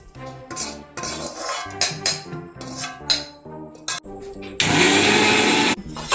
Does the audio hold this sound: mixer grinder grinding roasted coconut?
yes